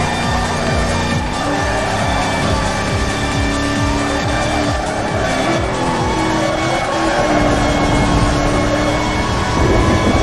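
A 1969 Dodge Charger R/T in a racing video game roars continuously and loudly, its engine note rising and falling through revs with tire noise underneath, and no voices over it.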